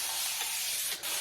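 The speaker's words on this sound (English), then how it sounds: "I'm going to spray a little bit of water so that it's easier for the mask to apply" A spray bottle mists water onto hair in a bright, continuous hiss that lasts just over a second, close and fairly soft.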